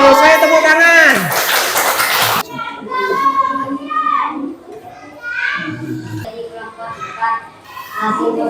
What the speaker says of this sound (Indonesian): Saya tepuk tangan.